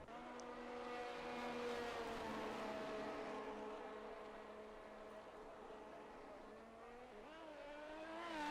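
A Formula 1 car pulls out of the pit lane in a racing video game, its engine whining in steady harmonic tones that hold, dip slightly and then climb again as it accelerates, heard alone without voices.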